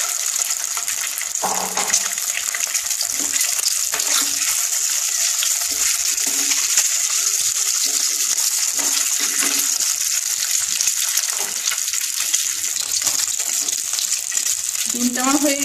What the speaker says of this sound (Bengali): লাল লাল করে ভেজে নিয়ে আমি তুলে নেব।